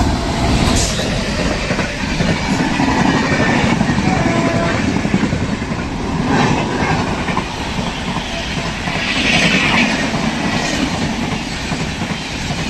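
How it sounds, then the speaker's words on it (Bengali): The Vivek Superfast Express, running from Kanyakumari to Dibrugarh, rolls past loud and close with a steady roaring rumble and rhythmic clickety-clack of wheels on rail joints, plus occasional squealing, continuous throughout. "কন্যাকুমারী টু ডিব্রুগড় বিবেক সুপারফাস্ট এক্সপ্রেস ইন্ডিয়ার লংগেস্ট"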